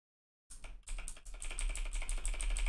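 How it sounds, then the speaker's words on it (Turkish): Keys on a Razer keyboard clatter in a fast, steady stream of close taps that starts abruptly after a short silence and grows slightly louder. "Razer tuş testi yapıyor."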